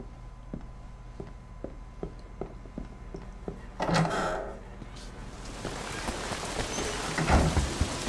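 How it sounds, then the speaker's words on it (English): Steady rain falls in the open-world game Sleeping Dogs, a constant wash at first, then growing heavier and denser, with a brief louder burst midway and low rumbles near the end, with no voices. "It's still raining?"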